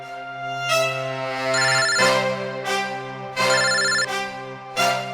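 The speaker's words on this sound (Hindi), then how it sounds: "यहाँ पे किसका फोन बज रहा है?" A mobile phone ringtone plays alone, a bright repeating electronic melody that loops several times at steady volume with no voices.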